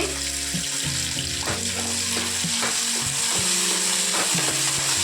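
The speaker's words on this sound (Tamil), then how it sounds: "நல்லா வெங்காயத்தை வணக்க வணக்கி எடுத்துக்கலாங்க கூடவே கருவேப்பிலை சேர்த்துக்கலாங்க" Onions and curry leaves frying in a pan, with a steady loud sizzle broken by the scrape and clatter of stirring. Some low tonal sounds run underneath. No one speaks.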